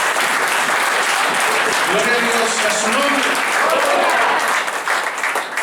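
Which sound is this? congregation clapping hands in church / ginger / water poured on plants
congregation clapping hands in church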